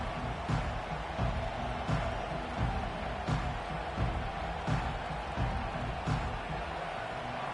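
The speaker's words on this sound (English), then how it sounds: "This crowd bringing an ear-splitting welcome to their visitors." Stadium crowd in the College Football 25 video game, a dense continuous roar with regular thumping beats underneath, a steady wall of noise with no distinct voices.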